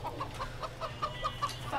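Chickens in the co-op video game Moving Out give a quick run of short, regular clucks, about nine in under two seconds, fairly faint over a low background hum.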